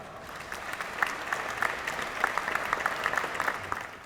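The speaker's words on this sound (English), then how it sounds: "Let's give her a big round of applause." Crowd applause at a JROTC gala, many people clapping steadily with crisp, distinct individual claps standing out over the dense roar, fairly close and sustained throughout.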